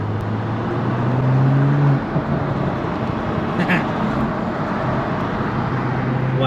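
Inside a 2023 BMW M340i on the move, a steady road and engine rumble fills the cabin, with a brief low engine tone early on and no talking.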